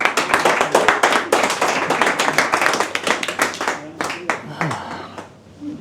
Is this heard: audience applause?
yes